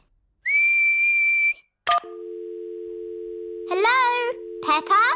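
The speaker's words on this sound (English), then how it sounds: "What's whistling anyway? You put your lips together and blow." A cartoon pig character gives a long steady whistle, then after a short sound a held two-tone whistle carries on beneath children's cartoon voices that break in near the end.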